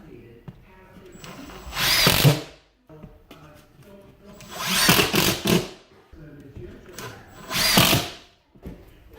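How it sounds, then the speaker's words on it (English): A power drill drives screws through drywall into a 2x4 behind it, in three separate whirring bursts of a couple of seconds each, close and fairly loud, with quiet gaps between. "hold it against the drywall and put some screws in like that"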